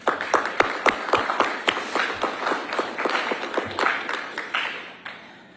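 Walter claps his hands in a quick, steady run of sharp, crisp claps lasting several seconds at a public transit authority meeting, each clap close and distinct before the run trails off.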